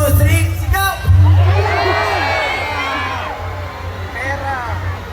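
A large outdoor music festival crowd shouts together on cue, a loud roaring burst of voices with whoops that swells and then tapers into scattered cheers over a low amplified bass hum.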